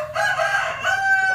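An ayam miring galih tembus rooster, a black-based chicken with reddish-brown hackle feathers, crows once in a long sustained call with a drawn-out tail, close and loud with no talking.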